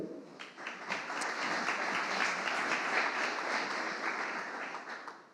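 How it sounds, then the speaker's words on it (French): A conference crowd applauds steadily, a dense wash of clapping that swells quickly, holds for several seconds, then begins to taper off. "Je crois que on peut l'applaudir."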